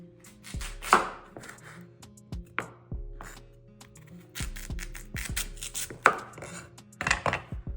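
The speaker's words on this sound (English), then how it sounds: "I'll be cutting the sweet potato into small bits so I can boil till it's soft" A knife chops sweet potato into small pieces on a cutting board, close and crisp, in irregular bursts of sharp taps with short pauses between and faint scraping; no talking.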